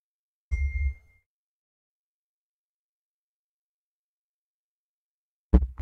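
Two phone message notification dings, each a short sharp chime with a thump, separated by about five seconds of silence, with no talk over them.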